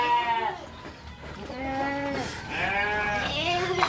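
A pregnant Javanese Randu PE goat on a farm bleats loudly and close by, with several wavering, drawn-out calls in a row.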